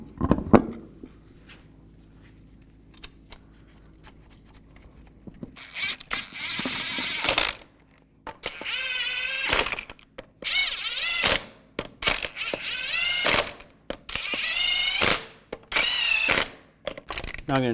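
Power tools and wrenches work the lug nuts on the front wheel of a 2002-2009 Chevy Trailblazer. Loud, repeated mechanical bursts of whirring and clattering are separated by brief pauses, up close, with no talking.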